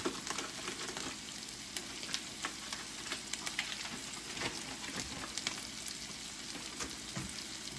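A frozen pork chop sizzles and fries in a pan, giving a steady close crackle with scattered pops and small stirring clatters.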